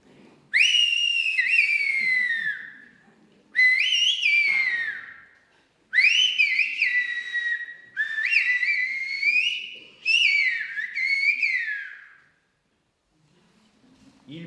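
Shepherdesses of the Ossau valley whistle messages in their whistled language, five long, loud, piercing whistled phrases with rising and falling pitch glides, each lasting two to three seconds and separated by short silences.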